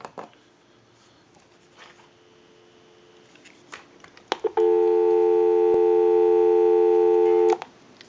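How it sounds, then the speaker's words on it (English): Steady telephone dial tone on a landline during a telephone repair, starting abruptly after a few clicks and holding loud and continuous for about three seconds before cutting off, with faint handling noise before it. "So we'll go ahead and give you some dial tone."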